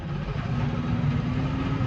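Tractor engine idling on a farm during potato planting, a steady low rumble close by that holds even with no change across the short stretch.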